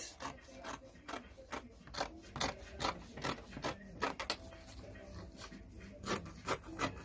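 Scissors cut through fabric for a long blazer's front panel, giving repeated short rasping snips in an irregular rhythm, close and fairly quiet.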